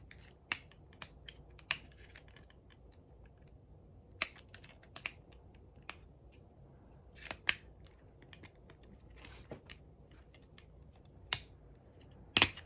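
Plastic parts of a Starscream transformer toy click into place in scattered, sharp, close snaps, with a few louder clicks near the end and quiet gaps between.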